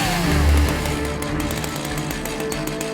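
A chainsaw runs near a canal boat, a loud continuous buzzing engine drone with a brief low surge at the start, steady and close.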